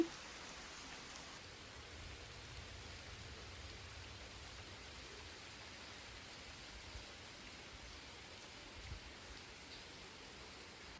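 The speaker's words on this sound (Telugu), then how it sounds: "పొద్దున్న లెగిసేసరికి వర్షం మామూలు పడట్లేదు. బయట చూడండి." Steady rain hisses outside, a dense, even wash of falling drops that continues without pause, fairly soft and distant.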